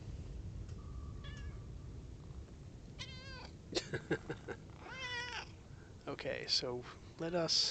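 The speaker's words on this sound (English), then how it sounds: "I don't know if you can hear my cat meowing" Several short, harmonic meows from a house cat rise near the microphone at intervals, some drawn out, mixed in with someone talking and gameplay sounds of a submarine game.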